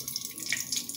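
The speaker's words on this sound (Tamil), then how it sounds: "எல்லாம் நல்லா பொரியட்டும்" Mustard seeds with a few cinnamon pieces and cloves fry in hot oil for a chickpea kulambu, giving a faint, continuous crackling sizzle with tiny pops and no voices.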